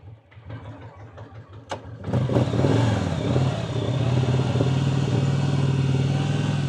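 A Victory motorcycle that has not run in years, cranking with a rhythmic chugging starter before the engine catches. It settles into a loud, steady, close-up idle and rev that holds for several seconds.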